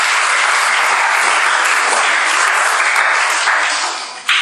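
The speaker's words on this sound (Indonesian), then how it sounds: "ya tepuk tangan buat Yesus Tuhan kita yang ajaib itu" Loud, sustained applause from a church congregation during a sermon, a thick wash of many hands clapping continuously before briefly dipping near the end and surging again.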